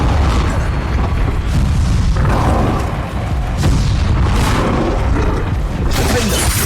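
Bombarda and Confringo spell explosions in Hogwarts Legacy, a loud continuous roar of booming blasts and bursts layered with game effects and shouted spell names.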